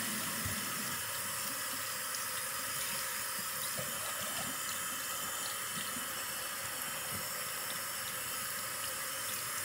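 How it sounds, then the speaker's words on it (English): Water runs steadily from a tap into a sink while a hand is washed, a loud continuous close splashing rush with no pauses and no talking. "I'm gonna wash my hand first"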